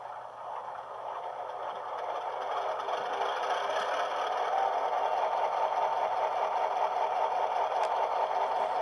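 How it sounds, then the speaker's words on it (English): An HO-scale brass MKT/Frisco "Texas Special" diesel locomotive model with a DCC sound decoder runs through its startup, giving a steady, rumbling engine drone that builds slightly and then holds alone, with no talk. "Let me start up the engine"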